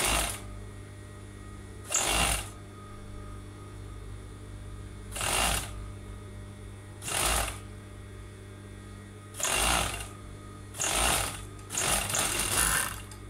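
Sewing machine stitching a sleeve band onto a knit sweater sleeve, running in six short bursts of roughly half a second to a second, spaced a second or two apart, each over a steady low mains hum.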